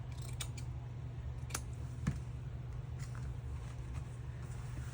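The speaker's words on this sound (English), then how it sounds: "I'm going to trim this all the way down." Paper for a junk journal cover being trimmed with scissors, a few light snips over a steady low background hum, with no talking.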